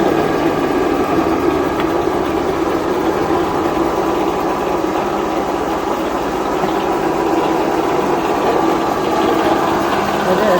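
A grass cutting machine engine running at idle in neutral, a loud continuous close drone with a steady low mechanical hum that holds even throughout.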